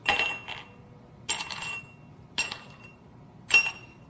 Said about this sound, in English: When we get that set, drop in our ice cubes